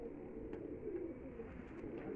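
Pigeons on a rooftop loft coo in a low, steady murmur that runs throughout, with a few faint higher calls over it and no talk.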